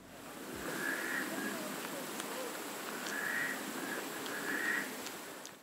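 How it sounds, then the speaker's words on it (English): Frogs call near desert pools in Joshua Tree, three short trilling bursts rising above a steady wash of wind and water noise, fairly distant and moderately loud. "you can hear frogs in there"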